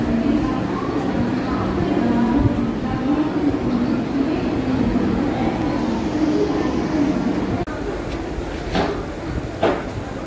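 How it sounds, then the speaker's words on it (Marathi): A fast train at Dadar railway station in Mumbai rumbles steadily with a sustained low roar of rolling wagons, then eases off near the end as a few clanks sound and voices murmur in the background. "दादर स्टेशनवरून आपल्याला पकडायची आहे टिटवाळा किंवा कल्याण फास्ट ट्रेन।"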